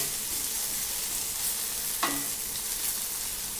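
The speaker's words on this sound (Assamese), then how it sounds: "এয়া আমাৰ ভেন্দি বিলাহী ভাজি হৈ গৈছে আৰু অলপ চলপ পুৰিও গৈছে" Okra and tomato fry in a pan, slightly burnt, with a steady, hissing sizzle throughout and one brief scrape of stirring partway through.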